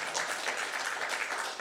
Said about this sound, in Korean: 42명. 박수 치고.